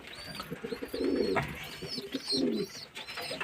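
Pigeons coo nearby in two low, throaty bursts, with faint bird chirps in the background.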